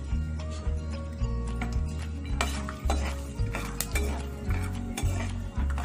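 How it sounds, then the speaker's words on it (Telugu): Peanuts frying in a pan, a steady sizzle under repeated scraping and clinking strokes of a spoon stirring them at an even rhythm. "ఇప్పుడు అదే ప్యాన్లో ఒక చిన్న కప్పు పల్లీలు ఫ్రై చేసుకోవాలి."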